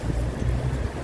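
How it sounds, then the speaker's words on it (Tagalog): Cold wind gusting across an outdoor wetland: a brief, loud roar of buffeting wind noise, with no speech. "Sakit sa mukha yung hangin."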